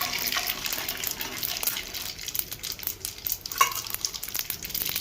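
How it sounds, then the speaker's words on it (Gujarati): Fine mustard seeds splutter and crackle in hot oil while tempering for batata vada sandwich dhokla, sharp irregular pops over a soft sizzle, close and fairly quiet. "તેલ પહેલાં ગરમ થઈ જાય પછી ઝીણી રાઈ નાખીને રાઈને ફોડી નાખીએ."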